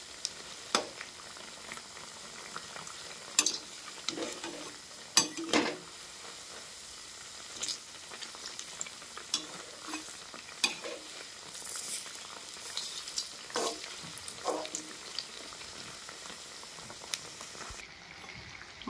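Bread snacks sizzle in hot oil in a pan, a steady faint crackle with scattered louder pops and spatters as pieces are turned, no voices.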